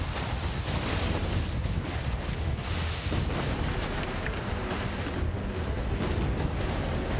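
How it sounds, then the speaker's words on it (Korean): Rough sea and strong wind buffet an octopus-fishing boat off Yeosu, making a continuous loud roar of wind and surging waves that fills the whole stretch without letting up. "잠깐 사이에 잔잔했던 바다가 요동을 치기 시작합니다"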